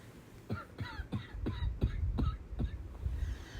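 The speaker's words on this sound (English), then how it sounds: "I'm trying to cough away from the phone so y'all don't hear me." A string of quick, muffled coughs repeats in a steady rhythm, several in a row, over a low background hum.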